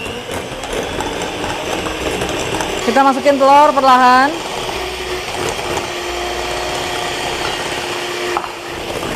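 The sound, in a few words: electric mixer beating choux pastry dough with eggs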